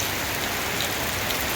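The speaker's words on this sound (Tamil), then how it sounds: "சற்று மழை குறைந்திருக்கிறது. சிறு தூறல்களாக போட்டுக்கொண்டிருக்கின்றது." Steady rain falls over Koodankulam, a dense, even hiss of drops on surfaces that is close and unbroken, with no voices.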